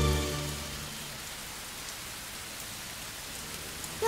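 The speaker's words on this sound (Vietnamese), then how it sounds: "Trời mưa quá, mình nghĩ nên đội nón đi" Steady rain pours down in an animated rescue-vehicle cartoon, a dense even hiss of drops on surfaces running throughout at moderate loudness, with a brief low musical tone at the start and no talking.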